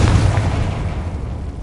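Confringo blasting spell explosion in Hogwarts Legacy, a deep loud boom that rumbles and slowly decays over a second and a half.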